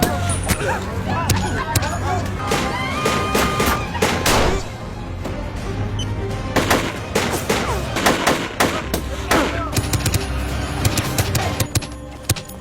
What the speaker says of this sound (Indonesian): Dan sekali lagi baku tembak pun terjadi.